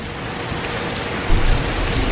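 Heavy rain from a thunderstorm pours down around a parked Tesla, a loud, steady hiss with a deeper rumble swelling partway through, no voices heard.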